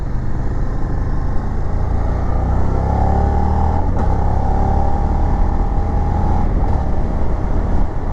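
A car accelerates gently on the Linas-Montlhéry road circuit, heard from inside as a steady, loud engine drone with a faint rising whine mixed into continuous road and wind rumble, no voices.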